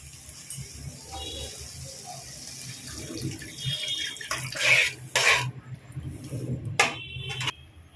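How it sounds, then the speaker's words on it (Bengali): Water poured into a cooking pot of chopped potatoes and jackfruit seeds, a steady splashing stream with a few louder gushes and a brief break toward the end, close by and alone. "আমি এবার একটু জল দিয়ে দেব"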